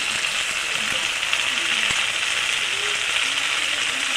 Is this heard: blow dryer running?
no